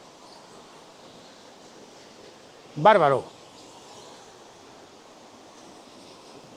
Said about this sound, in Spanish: mira cómo cae esa cascada de ahí, impresionante